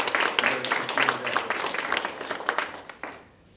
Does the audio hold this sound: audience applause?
yes